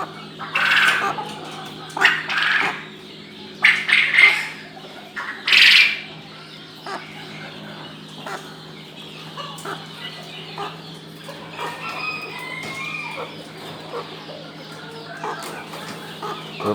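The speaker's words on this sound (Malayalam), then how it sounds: "ഇത് ഒരു വൈറ്റ് ബ്രഹ്മ എനിക്കുണ്ട്." White Brahma hens in a netted terrace poultry farm cluck and squawk in several close bursts early on, then settle into quieter, scattered clucking over a low background hum.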